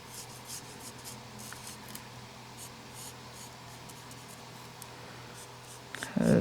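A marker's bullet nib scratches and rubs softly across paper in a run of short strokes, quiet and close, with a louder bump right at the end.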